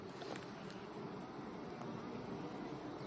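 A steady, dense buzzing of many honey bees fills the clip, constant and fairly close, with no voices.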